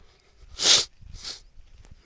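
A person with a cold lets out a single sharp, loud sneeze, followed by a softer second exhale-like burst, with quiet background between.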